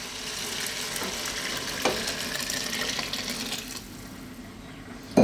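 Chicken stock poured into a pot of split pea soup with bacon and rosemary, a steady splashing liquid stream that tapers off, close and moderately quiet.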